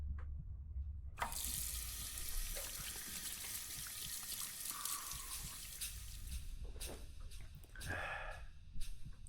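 Water runs from a tap into a sink in a horror video game, a continuous splashing trickle with small shifts in flow and a few brief splashy bursts near the end, heard alone without talk.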